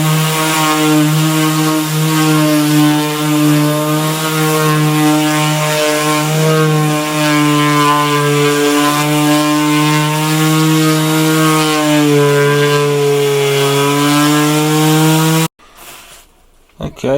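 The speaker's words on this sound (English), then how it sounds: "So it's just a case of sanding this down." A power sander whines steadily and loudly with a strong harmonic drone for about fifteen seconds while sanding a resin-coated Ouija board, then cuts off abruptly, leaving brief quiet handling noise.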